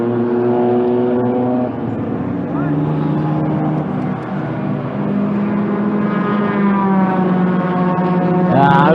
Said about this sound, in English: So with all the cars going by.